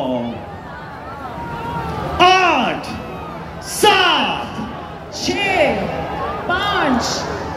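A large crowd at an event for Pakistani Olympic javelin thrower Arshad Nadeem cheers and whoops in rising swells during a countdown, with an announcer speaking over the noise.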